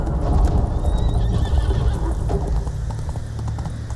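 Roach the horse galloping in The Witcher 3: Wild Hunt, Blood and Wine in Toussaint: loud, close, rapid hoofbeats over a dense rumbling game soundscape, with a whinny near the start.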